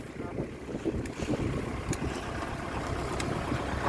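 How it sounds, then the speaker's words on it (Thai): Strong wind buffets the microphone outdoors beside a tractor-driven corn stalk chopper, a steady loud roaring rumble with gusty low-end thumping throughout and no speech. "โอ้ลมแรงมาก"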